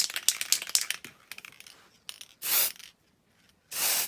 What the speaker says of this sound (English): there's just the base of the Cadillac spray now, so I'm using this pre-mixed BMW Calypso Red